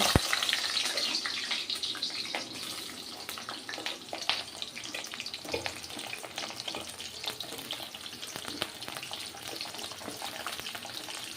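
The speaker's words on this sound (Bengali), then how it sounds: "পটলটা আমি এখানে ছেড়ে দেবো ভাজার জন্য" Pointed gourd (potol) pieces fry in hot oil in a pan, giving a dense, continuous crackling sizzle with scattered sharper pops, fairly close and without talk over it.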